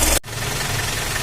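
A Mitsubishi L300 diesel engine runs with a steady, close mechanical rumble after an abrupt cut, continuing evenly for about a second.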